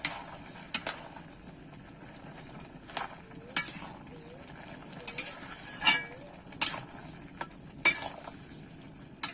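Bottle gourd and prawns stirred with salt and turmeric in a pan: a series of distinct metal spoon scrapes and clinks against the pan at irregular intervals over a quiet background hiss.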